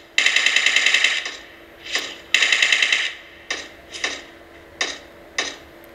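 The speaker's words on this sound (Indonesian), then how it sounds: "ada yang nembak-nembak tuh" Automatic gunfire in the mobile game PUBG Mobile, long rattling bursts followed by single and short clustered shots at irregular intervals, loud and close with no voices over it.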